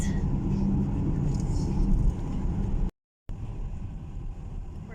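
A car drives out on a sunny road past a flower-planted center island toward a camp, its steady engine and road rumble filling the whole stretch, with a brief dropout partway through.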